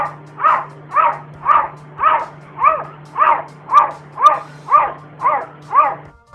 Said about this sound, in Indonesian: tampak seekor kucing hitam menggonggong yang suaranya sangat mirip dengan suara anjing